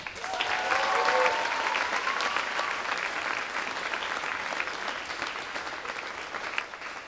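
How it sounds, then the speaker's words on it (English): A school spring concert audience applauds for student musicians, broad sustained clapping from a crowd that swells early and then holds steady, with a few brief voices or cheers mixed in near the start. "Let's have one more round of applause for all of our best players."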